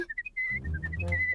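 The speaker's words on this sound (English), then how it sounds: "The whistling started all over again." Cartoon baby Bristly Whistlers whistle in a string of short bright chirping notes, first a few separate tweets, then a run of sustained whistles over a low rumbling backing.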